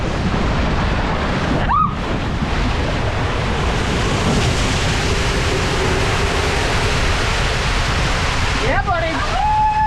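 Water rushes down the biggest water slide at The Grand at Moon Palace resort in Cancun, Mexico, a loud, steady, close-up broadband roar that runs unbroken throughout.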